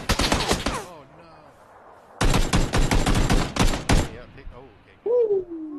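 Bursts of automatic gunfire in PUBG: a rapid volley, a pause, then a longer stretch of fast shots and a short final burst, loud and close, with a voice speaking briefly near the end.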